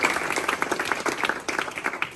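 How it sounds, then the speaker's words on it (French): Steady applause from an audience at a French bikers' association gathering, dense clapping from many hands that carries on without a break. "on peut les applaudir"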